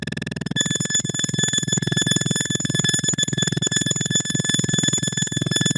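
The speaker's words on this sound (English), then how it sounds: "this is just the sound of the pedal talking to itself" A guitar pedal self-oscillates on its own, a steady high-pitched whine with stacked harmonic tones over a dense, buzzing low drone that holds constant and fairly loud throughout, with no voices.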